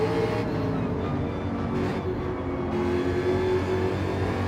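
Onboard race car at Suzuka accelerating hard under power, a steady loud engine drone with gear-change shifts, close and continuous throughout.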